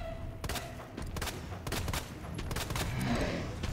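Gunfire in the game Resident Evil 2 Remake, a rapid burst of repeated shots over continuous game noise, moderately loud.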